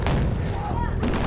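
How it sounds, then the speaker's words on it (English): A loud, close explosion blast on the Transformers: Revenge of the Fallen film set, a dense roaring boom that fills the whole moment with rumbling debris. "They really blow it up."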